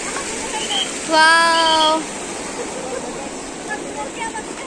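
Waterfall at Brindavan Garden in Mysore, a steady broad rush of falling water running throughout, with a brief voice exclaiming over it and faint chatter.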